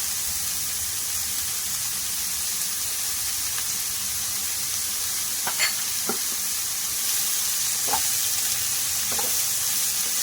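Sliced onions, green chillies and curry leaves sizzle steadily in a pan for a chicken biryani, with a few sharp spoon scrapes and clicks of stirring over the constant frying hiss.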